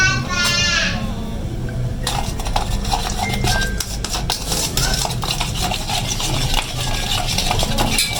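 A mixture with water added is stirred steadily in a bowl, producing continuous wet scraping and sloshing at close range, with faint clicks of a utensil against the sides, running throughout without speech.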